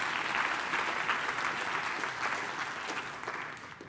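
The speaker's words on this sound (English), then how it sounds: "A big round of applause for Richard there, I think" Applause from an audience at a civil service challenge event fills the room as a steady, dense wash of clapping, moderately loud and continuous, easing slightly toward the end.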